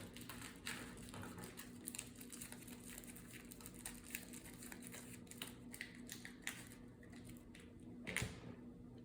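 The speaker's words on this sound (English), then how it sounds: "let's shuffle up the encounter deck here" A deck of Marvel Champions cards is shuffled by hand on a tabletop, giving quiet close riffling and light tapping clicks in an irregular rhythm, with a slightly louder rustle near the end.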